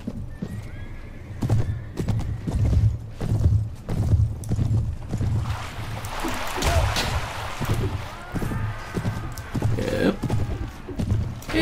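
Horses ridden in the video game Mount & Blade Warband: steady clip-clop hoofbeats with snorts and whinnies run throughout, close and fairly loud amid battle noise, with faint voices now and then.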